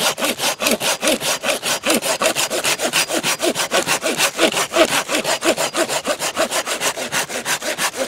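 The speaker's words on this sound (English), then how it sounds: "Sawing and just catching the shavings down there." A hand saw cuts through wood in a steady back-and-forth rhythm, each stroke a close, loud rasp, with shavings caught below during outdoor fire-making.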